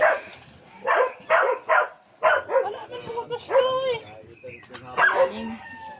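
A dog barks in short bursts and whimpers at close range in a rural backyard, with people talking over and between the barks.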